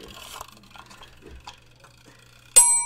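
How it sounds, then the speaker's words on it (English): A single bright notification ding rings out near the end and sustains with a ringing tail, after quiet moments of faint tapping and background movement. "that's your notification sound"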